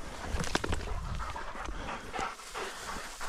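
A hunting dog pants hard and steadily up close after a Mearns quail hunt in Arizona, with quick rhythmic breaths and a faint whimper in the outdoor air.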